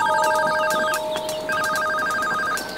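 A telephone rings loudly and close, sounding two clear electronic ring bursts separated by a short pause, with no talking over it.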